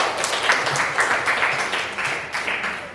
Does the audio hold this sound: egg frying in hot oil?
no